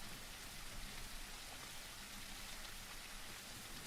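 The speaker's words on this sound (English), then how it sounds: "Gosh, I hate this rain." Steady, faint rain falls in a dinosaur video game, an even hiss of drops without pauses or voices.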